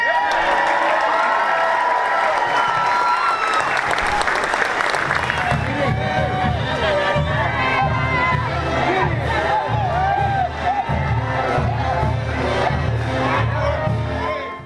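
Huge airport crowd cheering and applauding returning veterans at the inaugural Central Valley Honor Flight, loud sustained clapping with shouts and whoops, then a voice speaking over the roar as cheering continues.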